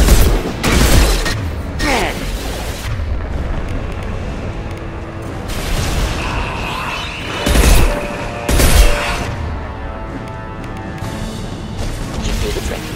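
In Mass Effect 2, the Impact shot ability fires with heavy booming blasts and crashing impacts amid ongoing combat noise, while a voice speaks over the action.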